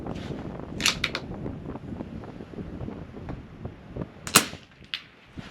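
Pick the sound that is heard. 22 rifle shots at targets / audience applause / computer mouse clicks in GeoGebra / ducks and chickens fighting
22 rifle shots at targets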